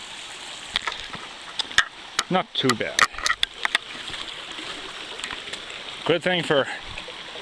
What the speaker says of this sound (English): we have our first major water crossing of the day.